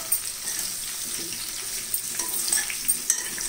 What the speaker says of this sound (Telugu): ఈ గుమ్మడికాయ ముక్కలు ఇందులో వేసుకుని